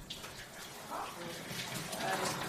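Shower water running in a retired man's home as a carer helps him wash: a steady hiss of spray and splashing water close by, with voices talking over it.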